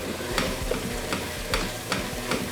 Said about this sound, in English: So I'm going to let this mix for a couple minutes.